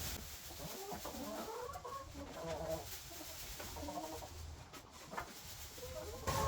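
Chickens cluck softly in a winter duck pen, their calls scattered and fairly distant over a steady wash of background noise.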